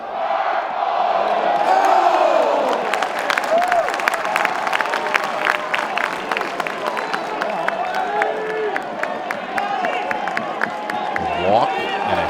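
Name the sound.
record baseball crowd cheering in Greenville stadium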